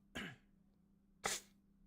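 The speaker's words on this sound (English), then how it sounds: "if I keep clearing my throat" Two short, harsh throat-clearing bursts about a second apart, close and moderately loud, from someone during a live forex trading stream; no speech.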